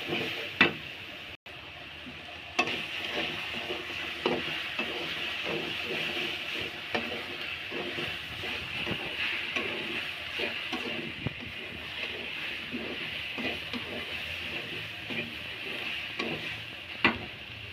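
Vegetable curry stirred in a pan: a steady low sizzle with repeated scraping and clacking strokes from the spoon, close and moderately loud throughout.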